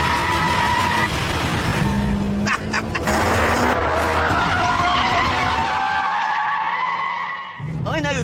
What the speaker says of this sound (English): the engine in this FQ360 model is such a tower of power, it can keep all 4 wheels spinning endlessly